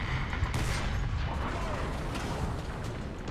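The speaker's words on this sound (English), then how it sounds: "we can actually drop some artillery on that guy's head, he's within range." Artillery barrage in the tank game War Thunder, heard as a dense, steady rumble of distant explosions and gunfire that holds for several seconds without a break.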